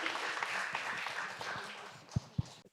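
An audience at a Korean public-safety research meeting applauds a presenter. The clapping is moderate and fades, and a couple of distinct louder claps sound near the end.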